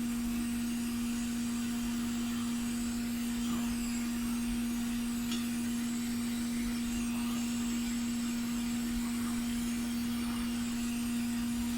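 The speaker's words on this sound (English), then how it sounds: "probably the hot air needs to be a bit hotter than that" A hot air gun set to 200 degrees blows steadily on a waterproof solder wire connector, giving a constant whooshing drone with a strong steady hum underneath, unchanging throughout and with no talking.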